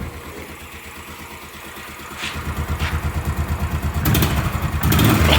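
A Royal Enfield Bullet 500 trials motorcycle is kicked over and its big single-cylinder engine fires up, settling into a loud, close, slow thumping idle with distinct regular beats.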